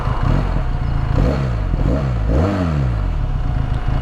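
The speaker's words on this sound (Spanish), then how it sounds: "Voy a grabar un poquito más la moto" A Benelli Leoncino 500 motorcycle revs in a few loud, close bursts, the engine note rising and falling sharply three times over a steady rumbling idle.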